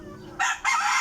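Roosters crow in a small backyard farm, two loud, close, harsh crowing bursts in quick succession over a quiet background.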